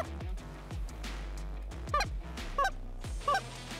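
A single goose honks as it flies in, with several distinct calls from a moderate distance during a field waterfowl hunt, and no talk.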